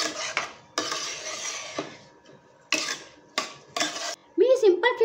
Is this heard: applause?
no